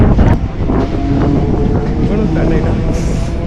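A train between Chennai and Kanchipuram rumbles along with a broad, steady roar and wind buffeting the microphone, clattering continuously throughout.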